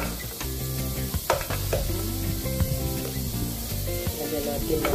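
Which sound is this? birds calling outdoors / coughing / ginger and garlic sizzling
ginger and garlic sizzling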